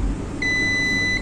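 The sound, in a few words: multimeter continuity test beep on laptop power rail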